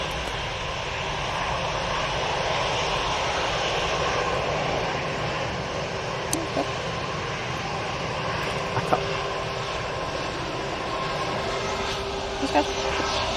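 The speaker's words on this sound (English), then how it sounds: "I've got the Ellings ATR 72 for Belfast taxiing out." An ATR 72 turboprop airliner taxiing out at Manchester Airport, a steady, fairly distant broadband engine drone with a faint tonal hum running throughout, occasional small clicks on top and some background talk.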